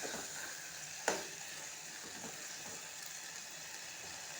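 Capsicum and tomato fry in a pan with a soft, steady sizzle, broken by a sharp scrape of stirring and a few quieter stirring sounds after it.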